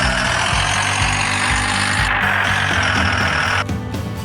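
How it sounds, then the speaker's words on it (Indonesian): A dump truck engine at a surface mine runs steadily and loudly, with a deep, rumbling low-end drone and a rhythmic knock. It sounds close and continuous, with a brief drop in the upper noise near the end. "Dump truck."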